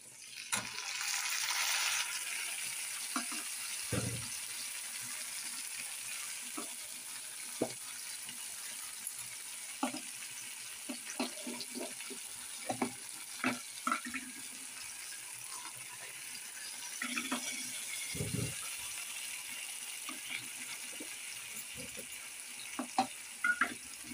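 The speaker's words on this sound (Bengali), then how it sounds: "মশলাটা আমি ভালো করে কষিয়ে নেব যতক্ষণ না তেল ছাড়ছে" Spice masala fries in oil in a pan, giving a faint continuous sizzle with scattered scraping clicks and taps from stirring, heard alone without talk.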